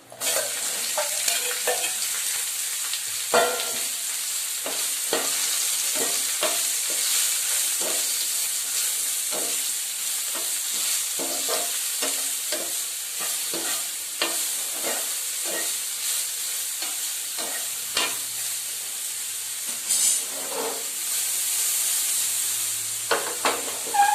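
Eggplant pieces frying and sizzling in a hot pan with turmeric, a steady close hiss punctuated by scraping stirs throughout.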